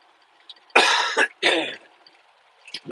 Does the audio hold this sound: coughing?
yes